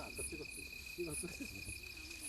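Insects chirp continuously on a wild mountain ginseng farm in a forested hillside, with a steady high trill and repeated brief pulses at a fairly close, moderate level.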